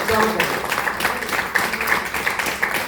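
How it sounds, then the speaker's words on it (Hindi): Dense, steady clapping from a crowd at a Hindu religious discourse, sustained throughout with a lively, continuous texture and some chatter mixed in. "सभी लोग जोरदार तालियां बजाएं"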